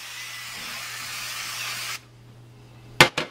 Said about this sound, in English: get non-stick cooking oil spray. Canola oil or anything will work. Make sure you spray this pan nice and good.